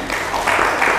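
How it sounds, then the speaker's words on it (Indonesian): Church congregation applauding and cheering for God, a brief burst of many hands clapping with voices swelling, fairly loud and close. "Beri sorak-sorak bagi Tuhan."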